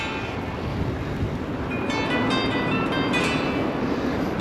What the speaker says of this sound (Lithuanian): Gerai važiuoti, vėjas į nugarą.